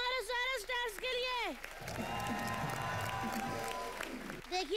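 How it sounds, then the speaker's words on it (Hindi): Studio audience applause and cheering for the Colors channel stars on a live comedy show, a broad wash of clapping that swells after a stretch of loud, sung or shouted voice at the start. "एक बार जोरदार तालियां हमारे सारे स्टार्स के लिए।"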